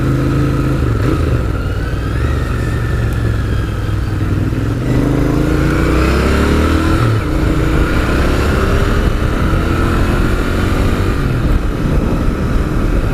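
A Royal Enfield Interceptor 650 engine with stock exhaust rumbles steadily throughout, with rising and falling revs as it accelerates, loud and close with a deep throaty exhaust note.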